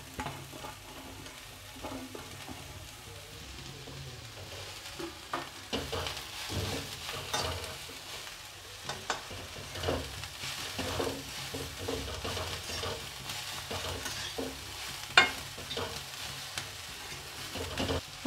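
Long-cut cabbage strips stir-fry in a hot pan for vegetable spring roll filling, a steady sizzle with repeated spatula scrapes and stirring clatter, close and continuous.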